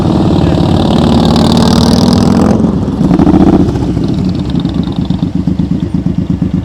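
A motorcycle engine drones loud and close during slow-speed riding practice with the throttle held up. The tone shifts midway, then settles into a choppy, pulsing low rumble.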